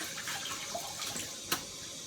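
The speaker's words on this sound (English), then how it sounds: "Let me wash it off here." A kitchen tap runs steadily while a candy cane is rinsed under the water, a soft, low-level splashing stream with one brief sharper splash near the end.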